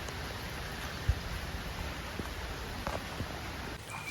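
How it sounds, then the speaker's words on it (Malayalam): Steady rain falls outdoors in Kozhikode, Kerala, a soft even hiss of drops with a few light taps and rustles, continuous and fairly quiet with no voices. "നല്ല മഴയും പെയ്യുന്നുണ്ട്"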